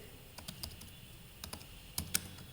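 Soft clicks of typing on a computer keyboard while entering data into an Excel spreadsheet, a few scattered keystrokes followed by a quick pair of louder taps, faint and close with no voice.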